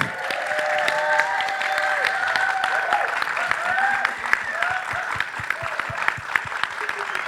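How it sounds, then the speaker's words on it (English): Audience applause rings out steadily after a talk show about sisterhood, a dense, sustained clapping from a crowd with a few cheers and whoops mixed in, loud and continuous throughout. "Give them a round of applause."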